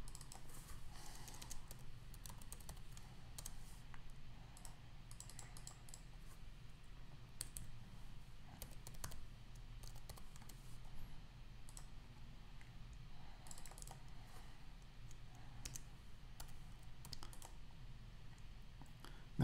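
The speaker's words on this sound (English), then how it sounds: "I'm going to just type each input one at a time" Keys on a computer keyboard are tapped in quick, soft bursts with short pauses, a faint close clicking over a low steady room hum, with no voices.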